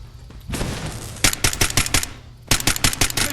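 Gunfire in Fallout 4, rapid bursts of loud close shots in quick rhythmic volleys with a short pause between two strings of fire.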